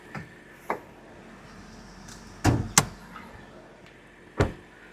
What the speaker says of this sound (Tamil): நான் ஹூடையுமே வந்து ஓப்பன் பண்ணுறேன்.